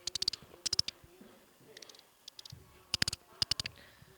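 A person imitates a bird squeak with the mouth through clenched teeth, making short bursts of sharp, high chirps in quick clusters of three or four, separated by brief pauses, with no talking.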